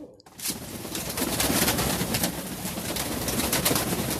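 Pigeons coo softly and repeatedly over a steady rush of outdoor background noise.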